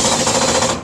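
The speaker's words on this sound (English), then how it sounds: "That's the sound of the drill bit skipping." A drill bit skips and chatters on a screw head in a maker space workshop, a loud, rapid rattling burst lasting under a second and then cutting off.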